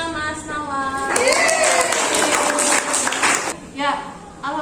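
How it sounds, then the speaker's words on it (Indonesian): Applause for a student group in an Indonesian classroom lesson, a dense burst of many hands clapping for about two and a half seconds, with a teacher's voice before and after. "Tepuk tangan untuk kelompoknya Mas Nawar."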